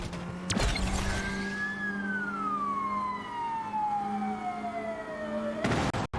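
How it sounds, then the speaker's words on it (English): Police car siren in the Asphalt 9: Legends racing game, a single long wail sliding slowly downward over steady engine hum, bracketed by brief loud bursts of game noise at the start and end. "police cars do get in the way horribly."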